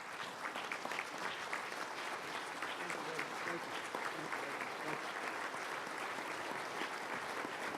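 An audience applauds to welcome New York Governor Andrew Cuomo at a public announcement event, a steady dense clapping of a large crowd heard at moderate distance throughout, with no let-up.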